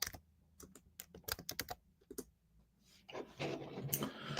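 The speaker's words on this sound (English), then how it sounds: "So I'm typing the human" Computer keyboard typing in a search query, a few bursts of quick, close key clicks separated by short pauses, ending in a denser flurry of taps and rustle.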